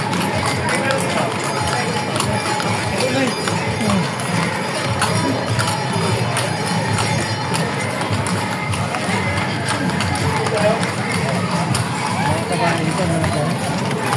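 Kalesa horse-drawn carriage in the Philippines, with hooves clip-clopping in a steady rhythm alongside the rolling carriage, heard amid a busy crowd with voices chattering in the background.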